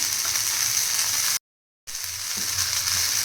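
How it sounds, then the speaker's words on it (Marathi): Pomfret coated in green mint paste fries in hot oil, giving a loud, dense, continuous sizzle that cuts out briefly to silence and then resumes. "बघा इथे आपण छान प्रेस करून करून इथे फ्राय करून घ्यायचे"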